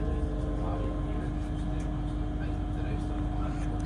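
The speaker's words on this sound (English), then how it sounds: "And we are now departing Motherwell." A passenger train pulls out of Motherwell station, heard from on board as a continuous low rumble with a steady mechanical hum and faint rattles, evenly loud throughout.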